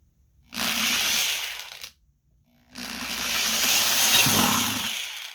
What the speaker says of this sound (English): You just drill a hole